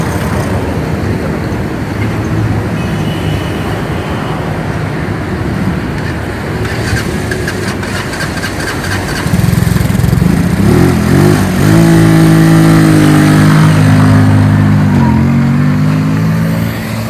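A loader rickshaw engine on a test drive in Pakistan runs with a steady idle for about nine seconds, then revs up louder with rising harmonic tones, staying close and prominent throughout.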